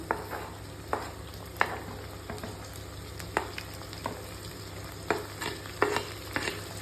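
Onion and tomato frying in a pan while a spoon stirs them, giving a continuous sizzle punctuated by irregular scraping clicks, close and fairly quiet, with no talking.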